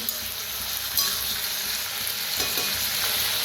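Young, tender pumpkin pieces fry in hot oil with a steady, close sizzle and crackle, broken now and then by the light scrape of a spoon stirring the pan.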